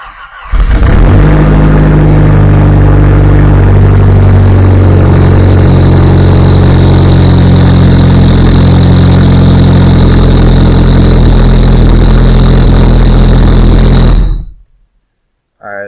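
A DSM car running a speed density setup with a 3-bar MAP sensor cranks and fires, then settles into a loud, steady idle with a whine on top, running close for about fourteen seconds before cutting off abruptly.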